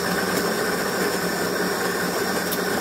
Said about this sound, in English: that literally grinds all that coffee